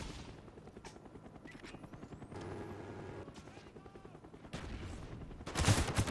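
Gunfire in the Black Ops video game, rapid bursts of automatic shots over a steady helicopter-like rotor drone, with a louder blast near the end and a voice speaking over it.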